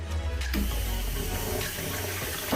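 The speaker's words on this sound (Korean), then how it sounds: "소변기 물 내려오는 속도가 마음에 안 든다" Water pours steadily down an odor-free urinal right after its flush valve is opened slightly wider, giving a close, continuous rushing hiss and splash with no voices.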